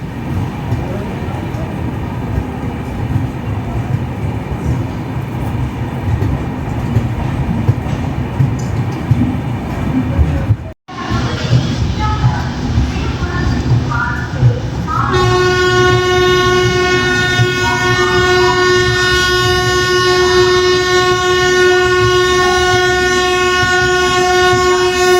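The 22624 Mahal Superfast Express, running from Madurai to Chennai, rumbles along steadily and loudly, then its horn sounds a long, sustained blast over the continuous rolling noise of the train.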